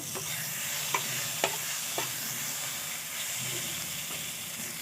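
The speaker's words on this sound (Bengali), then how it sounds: "ভালো করে কষিয়ে নেব তিনটে গোটা লঙ্কা দিয়ে দেব" Spices with a splash of water and three whole chillies sautéing in a pan, a soft continuous sizzle broken by a few crisp spoon taps and scrapes.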